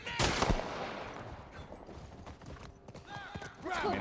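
Horse hooves gallop in The Last of Us Part 1, a burst of rapid clip-clop thuds under game sounds and faint voices, loud at first then settling into a quieter rolling patter.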